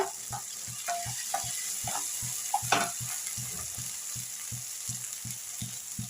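Tomatoes sizzle quietly in a pan while a spoon stirs them in a steady, evenly spaced series of soft scraping taps, one louder knock partway through, and no voices.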